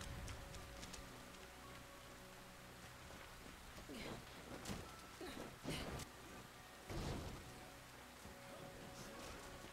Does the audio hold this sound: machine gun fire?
no